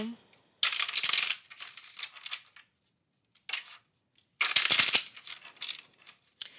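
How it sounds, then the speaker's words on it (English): A deck of tarot cards shuffled by hand, with two long riffling bursts separated by quieter card handling and light slides, close and clear without talk. "Let's give this a good shuffle."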